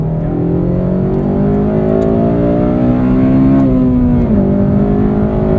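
Engine of a 2009 Honda Civic Si, eighth generation, revving while driving, the tone climbing steadily then dropping sharply on a shift near the end, heard loud and close from inside the cabin with no talking.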